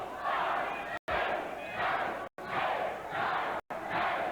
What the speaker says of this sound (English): Crowd counting right along.